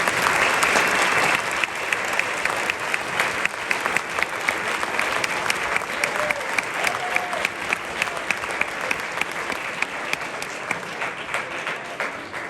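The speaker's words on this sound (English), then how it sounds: "would you please give our administration a round of applause" Sustained audience applause at a school eighth grade choir concert, a dense wash of clapping heard throughout, loudest at the start, then steady with scattered sharper claps.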